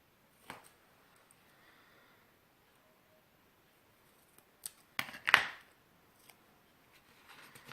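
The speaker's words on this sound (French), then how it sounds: "Ciseaux." Scissors make a few quick snips, with one sharp cut standing out, in an otherwise quiet room with faint rustling.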